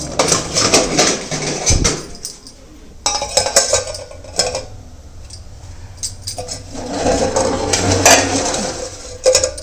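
Pots and dishes clatter in a home kitchen as a pot of dal is covered with its lid, giving a run of close metallic clinks and knocks that come in uneven bursts across the clip, with no talk.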